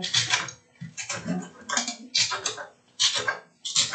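A knife slices through leeks on a cutting board in short repeated bursts of crisp cutting and board taps, close and fairly loud, with pauses between strokes and no speech.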